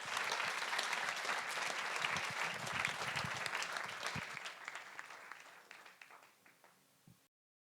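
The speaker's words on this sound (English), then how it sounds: "A big applause for the first speaker of the night" An audience at a Speck&Tech tech meetup evening applauds the first speaker, a dense sustained round of clapping that gradually thins and fades out over several seconds.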